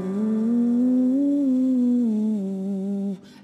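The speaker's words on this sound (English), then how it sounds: "you're going to blow out your cheeks and fill them with air" A singer does a pufferfish vocal warm-up with cheeks puffed full of air, holding one steady, airy, buzzing tone for about three seconds. The pitch drifts gently up and back down before it cuts off, heard alone and up close.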